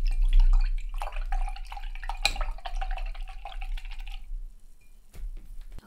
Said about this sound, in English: rinse off your brush